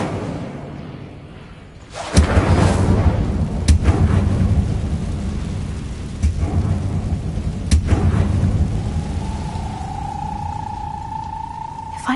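Casting the Incendio fire spell in Hogwarts Legacy brings a sudden loud whooshing roar, followed by a sustained crackling, rumbling burn with a few sharper bursts. A rising tone comes in near the end.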